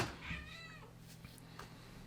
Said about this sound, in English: My cat is like meowing.